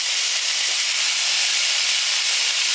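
About a pound of thick, chunky carne seca beef hits a hot pan with onion and garlic, giving a loud, steady, unbroken sizzle and hiss throughout, with no voices.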